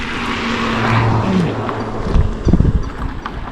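Vehicles pass along a quiet rural road in green monsoon countryside, a low engine hum building to a louder rush of traffic noise near the end.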